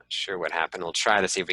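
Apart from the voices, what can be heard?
None of the usual background noises is heard.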